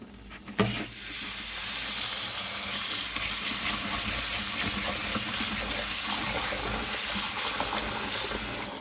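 Steady rushing water pours continuously, like a tap running full, with a brief clatter near the start.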